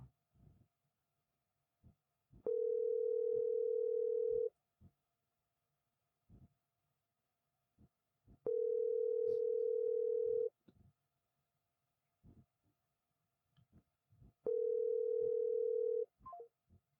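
An unanswered outgoing phone call: three steady ringback tones, each about two seconds long, spaced evenly several seconds apart, clear and near over faint clicks and low background noise.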